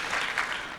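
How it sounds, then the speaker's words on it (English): A conference audience gives a short burst of applause, a dense patter of many hands clapping at moderate distance. "So my notes say I must pause for another applause."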